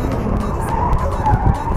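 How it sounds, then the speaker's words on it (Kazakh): A BMW drifting at a BMW car show in 2023, tires skidding and squealing over a loud revving engine, close and sustained with brief surges. "Дрифт деген осы ағайын."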